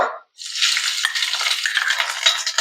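Sliced green chillies dropped into hot oil in a pan for gobi manchurian, a brief pause followed by a loud, steady sizzle and crackle of frying that continues without any talk.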